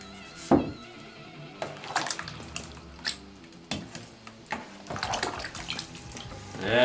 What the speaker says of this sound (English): So we're gonna add just a bit more water as well to give that a little bit of consistency.